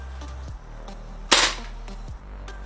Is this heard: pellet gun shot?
yes